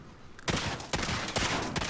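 An Origin 12 shotgun in Call of Duty Modern Warfare fires several rapid, heavy blasts in quick succession, loud and close, each boom cutting sharply into the next.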